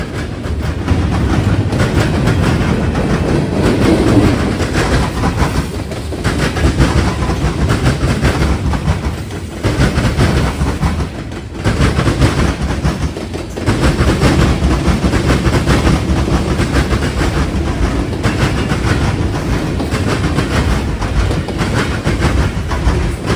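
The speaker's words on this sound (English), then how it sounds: "This one in particular being a mixed freight train." A mixed freight train rumbles steadily past up close near Marion, cars clattering over the rails in a continuous loud roar with brief dips.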